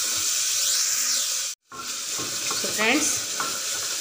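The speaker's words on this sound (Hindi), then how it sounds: "अब हम इसको अच्छे से चला लेंगे।" Tomatoes and vegetables for a bottle gourd (lauki) curry are stirred in a hot pan, sizzling and hissing steadily, with scraping stirs, a brief cut of silence midway, and a short spoken phrase near the end.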